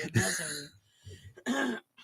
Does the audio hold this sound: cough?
yes